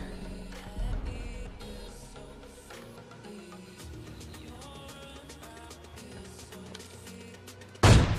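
Gunfire crackles in PUBG Lite gameplay, a string of fast, light shots spread through the clip over game music, ending with a sudden loud burst at the close.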